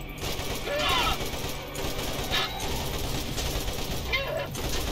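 Gunfire in the video game Borderlands Enhanced Edition, a dense, continuous burst of shots layered with game effects and occasional higher electronic tones, fairly loud throughout.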